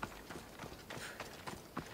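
Horse hooves clip-clop in Assassin's Creed Odyssey, a steady run of hoofbeats at moderate distance over a busy game soundscape with no talk.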